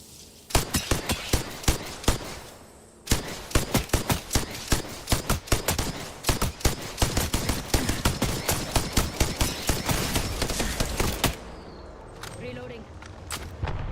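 Rapid gunfire in Apex Legends: sharp, evenly spaced shots rattle in long automatic bursts, close and loud, pausing briefly before resuming, with a voice speaking faintly at times.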